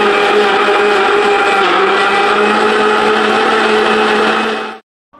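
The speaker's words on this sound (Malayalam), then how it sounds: "എന്നിട്ട് നന്നായിട്ട് അടിച്ചെടുക്കുക മിക്സിയിൽ" A kitchen mixer grinder blends bottle gourd with milk and water into a milkshake, a loud steady whirring motor drone that runs unbroken for several seconds before cutting off abruptly near the end.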